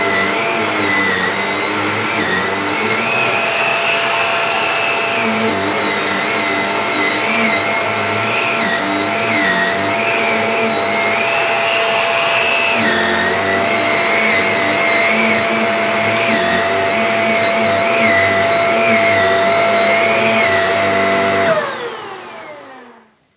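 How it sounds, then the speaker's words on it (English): A Shark Powered Lift Away Speed vacuum cleaner cleans stairs, giving a loud, continuous motor whine whose pitch wavers as the nozzle moves, then cuts off abruptly at the end, with no one speaking. "you can actually attach the main power unit directly to the end of the handle."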